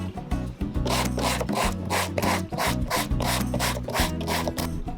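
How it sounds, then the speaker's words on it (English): Steady, rhythmic back-and-forth rasping of sandpaper scuffing rubber, loud and close, repeating strokes over a low droning background. "take 80 grit, 100 grit, 120 grit sandpaper"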